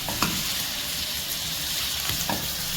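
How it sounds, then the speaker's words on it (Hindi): Chicken pieces fry in a hot pan for a Lucknowi whole-spice chicken stew, giving a steady, dense sizzle with a few brief stirring scrapes, close and alone without talk. "तो पहले मैं इसे अच्छे तरीके से फ्राई करती हूँ 2 से 3 मिनट"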